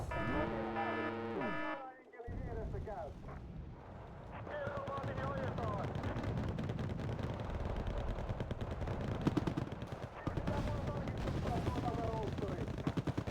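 Automatic weapon fire in a combat video game rattles in dense, sustained bursts that run almost without pause after a brief horn-like tone at the start, loud and close throughout.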